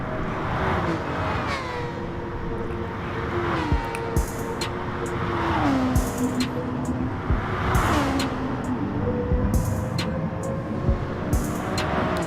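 A racing car engine from the video game GT Sport revs and shifts repeatedly, pitch climbing then dropping in cycles, steady and fairly loud with no voices.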